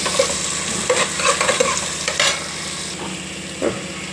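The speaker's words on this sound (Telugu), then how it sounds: "ఇప్పుడు ఈ జీలకర్ర వేగినాక ఈ నూనెలో ఈ ఉల్లిపాయలు వేసుకోవాలి." Sliced onions go into hot oil where cumin seeds have been frying, giving a steady close sizzle with stirring scrapes and clinks from a spoon against the pan, and no talking.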